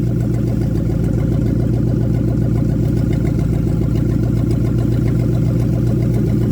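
An engine idles smoothly at a steady RPM, producing an even, continuous low hum with no breaks or surges from start to finish, close by and unaccompanied by voices.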